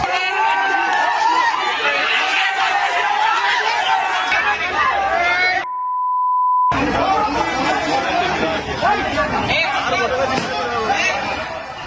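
A crowd causing a commotion inside a store, loud overlapping chatter and shouting close by, broken by a brief beep and a short silence before the noisy babble resumes.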